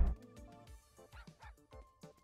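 Dog barking in the Out of Space video game: a string of about eight sharp, yelping barks in irregular bursts, fairly close and clear, with no talking over them.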